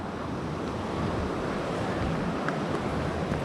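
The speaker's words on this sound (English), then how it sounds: "creek that comes from the mountain" A mountain creek on Grandfather Mountain, North Carolina, in winter rushes in a steady, dense wash of water noise, close and continuous, with no voices.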